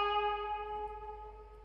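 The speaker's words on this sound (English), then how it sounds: "I added a Valhalla vintage verb just to make it wider and make it like more impactful." A single tuned guitar accent note drenched in Valhalla Vintage Verb reverb sustains with a wide, shimmering tail, fading gently and heard alone without voices or drums.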